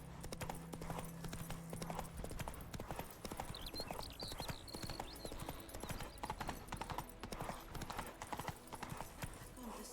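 Horse hooves clip-clop at a steady trot in The Witcher 3, a continuous rhythmic patter running the whole time, with game sounds and a brief voice layered over it.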